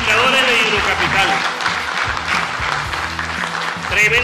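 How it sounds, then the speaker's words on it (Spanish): Applause breaks out at an indoor meeting of a water utility's president, managers and aqueduct chiefs: a group claps loudly and steadily, with voices talking over the clapping. "un aplauso"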